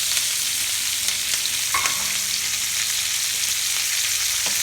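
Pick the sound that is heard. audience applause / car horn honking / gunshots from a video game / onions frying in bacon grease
onions frying in bacon grease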